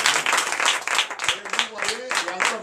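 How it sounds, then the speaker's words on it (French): At a night deliverance church service, the congregation claps loudly in a rhythmic pulse mixed with shouted acclamation. Voices are heard over the beat. "Je vais donner encore de vive acclamation"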